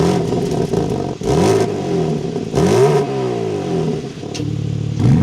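A 2025 BMW M3 Competition starts up with a loud crank and flare, then revs sharply twice more in rising-and-falling bursts before settling into a throaty idle, close and alone.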